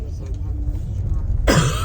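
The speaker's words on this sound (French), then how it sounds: "Et en plus, je commence à avoir la toux" Someone coming down with a sore throat and an illness gives a sudden, harsh cough that bursts in near the end after a quieter stretch, loud and close to the microphone.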